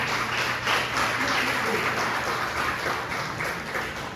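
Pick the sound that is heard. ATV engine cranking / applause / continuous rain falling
applause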